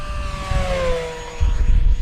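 A radio-controlled Durafly P-40N model propeller plane buzzes past on a windy day with a high droning whine that shifts in pitch, wind rumbling underneath.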